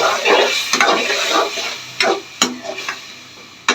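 Boiled potatoes are lightly stir-fried in a pan, with a soft continuous sizzle broken by several sharp clacks and scrapes of a spoon stirring against the pan, heard close.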